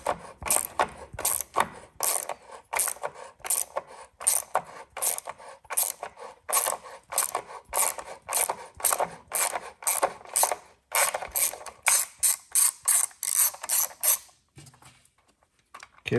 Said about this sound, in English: you're going to use a 6mm Allen with an extension and remove the retaining